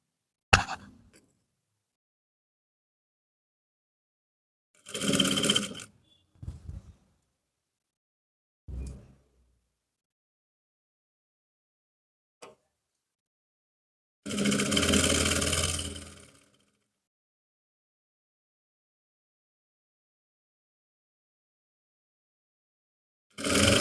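A sewing machine stitching pant trouser fabric runs in short separate bursts of whirring, with long silent gaps between runs and a few faint handling noises.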